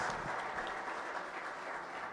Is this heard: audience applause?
yes